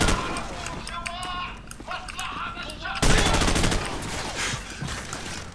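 Rapid bursts of gunfire in Call of Duty 4: Modern Warfare, with sharp repeated shots and a louder volley midway, heard beneath game dialogue and talk.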